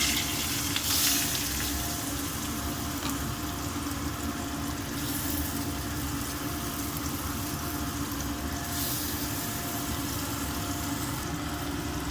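Mango pieces and curry leaves sizzling in hot oil with a pinch of turmeric for sweet mango chutney, a steady, even frying hiss that runs unbroken throughout with no voices.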